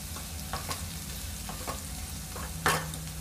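Tomatoes and green chilies frying in a pan during paneer masala, a steady soft sizzle broken by a few scraping stirs and one louder clatter near the end, with no talk.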